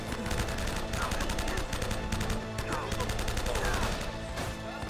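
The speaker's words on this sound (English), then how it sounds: "Okay, now he's shooting again" Enemy gunfire in the PS3 video game Uncharted: Drake's Fortune: dense, rapid bursts of shots crackle almost without pause throughout, loud and close, layered over a busy game soundscape.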